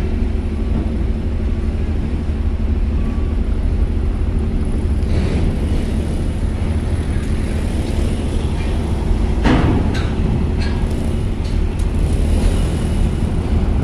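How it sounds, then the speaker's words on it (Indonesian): Private cars roll past in flowing traffic on a ship's vehicle deck, a constant loud rumble of engines and tyres with a couple of sharper passing swells, no voices. "Kendaraan pribadi ini masih mengalir"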